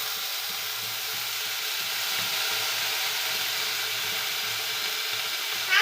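Soy sauce sizzles in a hot frying pan while an egg roll cooks, a steady close frying hiss with faint crackles and stirring, no voices.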